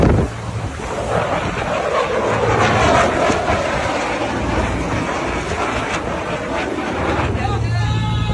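Marine Corps military aircraft flying over the coast, a broad roaring rumble mixed with wind buffeting and surf, sustained and fairly loud.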